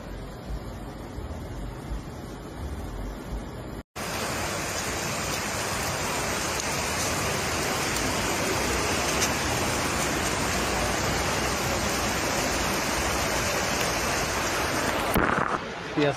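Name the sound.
floodwater flowing through Rome streets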